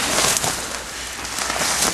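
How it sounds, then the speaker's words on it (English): Rain falls steadily through a forest, a dense, even hiss that fills the whole clip with no voices over it. "It's raining again."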